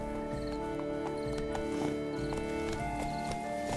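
Horse hooves in The Witcher 3 video game, a steady close clip-clop over a low ambient game drone, with the horse circling in place.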